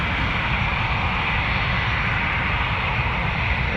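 Jet engines of a Boeing 737-800 bound for Cancun rumble steadily as it lines up on the runway at Toronto Pearson, a constant loud roar with no voices.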